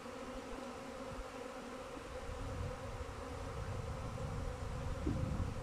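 A honey bee swarm hovers around a wind-shaken tree branch, filling the air with a dense, continuous buzzing drone that swells slightly louder toward the end, with no voices.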